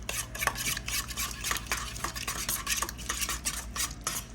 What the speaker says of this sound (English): Mix it up until everything is nicely combined.